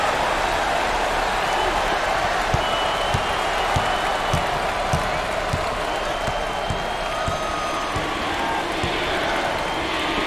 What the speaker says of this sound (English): this hometown crowd is showing their appreciation